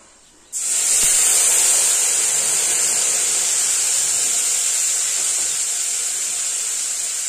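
Nigella seeds with green and dried chilli paste hitting hot oil, setting off a sudden loud, steady sizzle that keeps going and fades only slightly.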